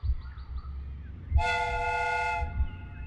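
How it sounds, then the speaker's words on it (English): A replica steam train's whistle in the video game Sherlock Holmes: Crimes and Punishments gives a single loud, chord-like blast lasting about a second, set against a low rumbling background. "First, the steam whistle is ready to be used."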